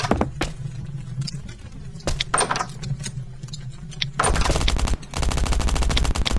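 Submachine gun fire in the survival game Last Day Rules Survival: loud, rapid automatic bursts separated by short pauses, turning into a denser, sustained volley toward the end, with no talking.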